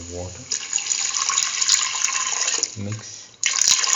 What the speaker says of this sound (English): Pour in 300 ml of water.